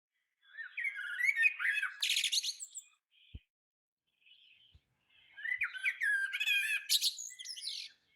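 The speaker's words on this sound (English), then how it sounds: "And to the sound of War Blackbird" A blackbird sings in clear, rich phrases outdoors in a garden, two long bursts of fluting song separated by a quiet pause with a few faint clicks, close and alone with no talk.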